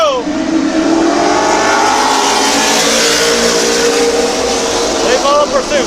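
At Midvale Speedway, several race cars accelerate hard past the listener in a loud, sustained engine roar that rises and falls in pitch as they pass.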